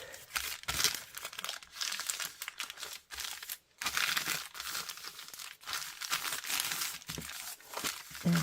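Paper bag being folded and shaped by hand into a folio, making close, crisp crinkling and rustling in irregular bursts with brief pauses, fairly quiet throughout.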